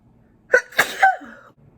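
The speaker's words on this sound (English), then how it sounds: "every time I do that I want to sneeze" A single close, sharp sneeze with a quick intake and explosive release, standing alone against a quiet background.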